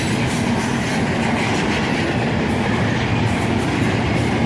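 An intermodal freight train rolling past close by, a loud continuous rumble of wheels and railcars with faint rhythmic clacking, no voices.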